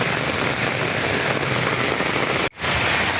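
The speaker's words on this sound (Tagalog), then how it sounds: "At patuloy pa rin yung pag-ulan dito sa Quezon City." Heavy rain falling on a street in Tatalon, Quezon City, a steady, loud, dense hiss of drops on hard surfaces that cuts out for a moment near the end and then resumes.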